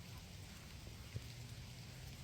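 Steady rain falling outdoors during a walk with a dog, a soft, continuous hiss that stays faint and even throughout, with no talking.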